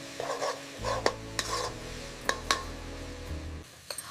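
Spices such as turmeric being stirred into a potato and egg curry in a pan: scattered scraping clicks of a spoon against the pan over a low steady sizzle, close and moderately quiet, with no talking.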